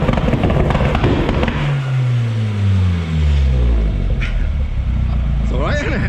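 A Toyota MR-S fitted with a swapped VAG 1.8 20V turbo engine revs up hard against a low limiter, the exhaust note rising and bouncing in repeated sweeps, loud and close with voices in the background.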